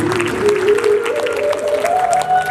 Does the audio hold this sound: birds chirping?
no